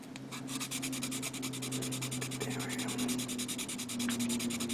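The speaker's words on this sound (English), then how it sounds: "I'm going to use the saw, the scribing tool, to even it out" Scribing tool scraping across a plastic Bandai model kit part, a rapid run of close, rhythmic scratching strokes going on steadily, with a faint hum underneath.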